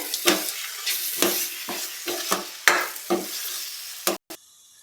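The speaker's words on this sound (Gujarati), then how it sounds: "બદામના કટકા નાખી દઈશું. સળી ટોપડું લીધું હતું એ નાખી દઈશું અને સરસથી મિક્સ કરી લેશું" Carrot halwa mixed with cashews, almond pieces and other chopped nuts being stirred in a pan: about eight to ten separate scraping, squelching strokes at an uneven pace over a faint sizzle, ending abruptly, with no speech.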